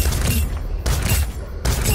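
Doomfist's short-range hand cannon firing in Overwatch, a few loud punchy blasts in quick succession over constant loud game noise.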